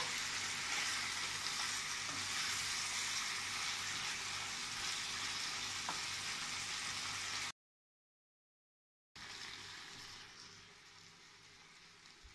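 Chicken liver fries in a pan with a loud, continuous sizzle under stirring, then cuts to silence for almost two seconds before a softer stretch of frying resumes.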